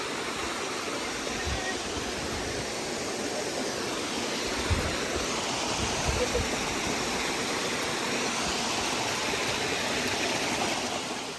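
Jacobs Creek on a road trip to Houghton, Michigan, running high: a loud, dense, continuous roar of rushing water that stays steady throughout, with no voices.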